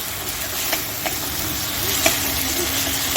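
Onion paste fries in a pan with a close, even sizzle while being stirred, a few soft spoon taps and clicks poking through the hiss.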